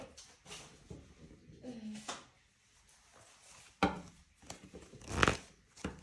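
Deck of tarot cards being shuffled by hand, with scattered papery slaps, riffles and taps in irregular bursts, close and fairly quiet, the sharpest riffle near the end, with brief speech between.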